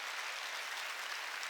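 Church congregation applauding during a Korean sermon, a steady wash of many hands clapping at once, soft and distant, with no voice over it.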